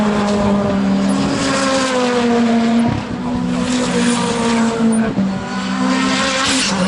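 Race cars at a Tunerfest time attack session roar loudly past on the track, with sustained high-revving engine drones rising and falling through gear changes and some tyre noise, close and continuous.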